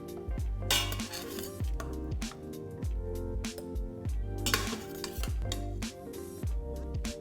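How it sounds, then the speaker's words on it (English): A metal spoon scraping and clinking against the inside of a pot, scooping cooked sweet potato cubes after pressure cooking, with repeated close, bright clinks and scrapes in a steady rhythm and no talking. "now we're gonna use this holy spoon to scoop out some juice-free cubes"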